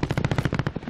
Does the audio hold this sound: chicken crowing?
no